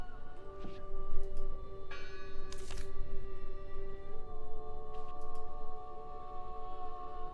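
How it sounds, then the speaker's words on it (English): A distant church bell tolling in the video game Draugen, soft repeated rings carrying over steady wind and outdoor ambience. "Listen! The bell! They're still in there!"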